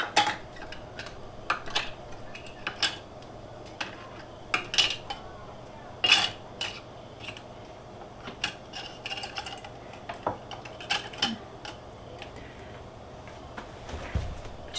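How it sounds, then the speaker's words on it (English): Small metal canning jar lids clink and clatter as they are dropped one by one into a small container, a series of sharp irregular metallic taps spread across the moment with quiet gaps between. "So I'm going to go ahead and put my lids in just a little container."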